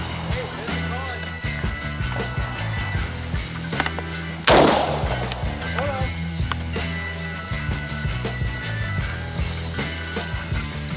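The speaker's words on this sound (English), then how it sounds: "upon shooting this rifle with both of the ammo, at first it ran a little bit more smoothly" A single sharp, loud rifle shot from SOCOM 16 gameplay cracks out midway over continuous game music and mechanical clicks, with faint voice underneath.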